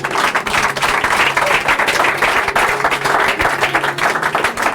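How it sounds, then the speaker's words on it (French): A church congregation cheering and applauding for Jesus, loud sustained clapping from a crowd with a few scattered shouts, filling the room steadily from start to finish. "Est-ce que tu peux acclamer Jésus?"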